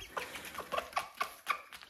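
A hen clucks while feeding her chicks grain, giving a steady run of short, quiet clucks at a regular pace nearby, with no talking.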